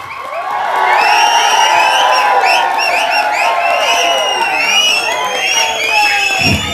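A large audience at a stage event stands to applaud and cheer, a loud, sustained roar of shouts and whoops over clapping that fills the whole stretch.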